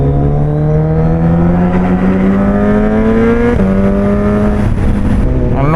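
A Suzuki Hayabusa motorcycle with a Penta carbon exhaust and new tyres, revving hard while riding. The loud, close engine note climbs steadily in pitch, dips briefly at a shift, then climbs again without pause.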